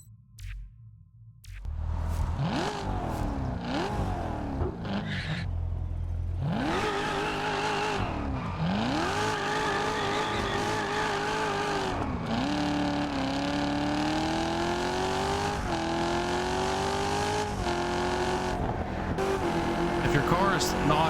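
Car engine in the Solar Crown racing game revving hard and pulling up through the gears, with repeated rising pitch sweeps and shifts, loud and continuous throughout under someone talking.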